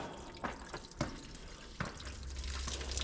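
Coolant drips from the water pump housing of a Case 305 during a pump replacement, making a few distinct close drips over a steady trickling background.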